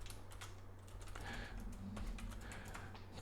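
Fast, light keystrokes tap on a computer keyboard in a quiet room, a quick run of soft clicks followed by a slightly louder burst near the end while an email address is entered.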